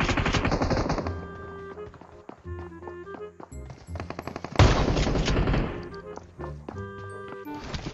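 Rapid automatic gunfire in PUBG Mobile rattles out in loud sustained bursts, mixed with the game's tonal effects, with short gaps between volleys and one long heavy burst near the middle.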